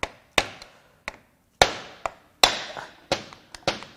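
Sharp metallic taps from a chisel driver striking a component on a failed Ford/Mazda 2.3L MZR engine, about nine distinct hits in an irregular rhythm, close and clear with quiet gaps between.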